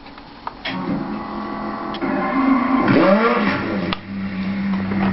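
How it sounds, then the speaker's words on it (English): A manual stick-shift car's engine cranks and starts in neutral, then settles into a steady idle with a faint rising whine, heard from inside the car at moderate loudness. "slowly start the engine in the neutral position, which is at the center"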